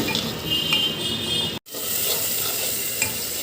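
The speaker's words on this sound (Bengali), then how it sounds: "পেঁয়াজ আর মাছ একসাথে ভালো করে ভেজে নেব" Chopped onion and shrimp frying together in a hot pan, giving a steady, close sizzle with stirring scrapes throughout and one very brief dropout midway.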